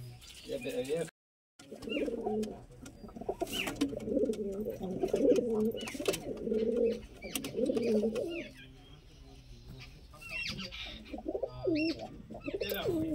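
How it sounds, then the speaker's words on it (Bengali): Madrasi pigeons coo in repeated low, throaty phrases that roll on almost without pause, with a few faint higher chirps mixed in. "পায়রা তো ভর্তি"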